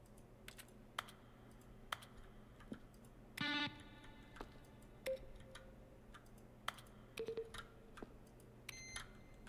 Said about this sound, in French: Chaque son est un mélange de frappe de clavier et de tonalités de synthétiseur.